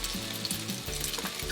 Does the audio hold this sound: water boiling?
yes